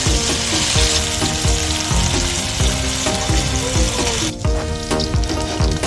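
Loud, steady sizzling of ginger, green chilies, curry leaves and onions frying in oil left from frying fish, with rhythmic scraping and stirring thumps from a utensil in the pan, close up.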